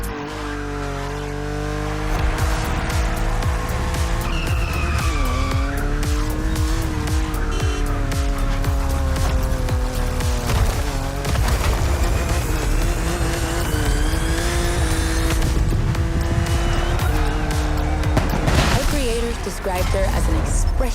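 A car in The Crew Motorfest drives on an open road, its engine holding a steady, loud drone with small pitch shifts throughout, while people talk over it.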